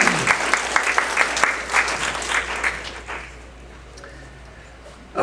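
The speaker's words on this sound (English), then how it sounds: "let's give him a nice round of applause for his contribution" An audience at a university faculty, staff and alumni awards reception claps in a steady round of applause that fades out after about three seconds, leaving quiet room tone.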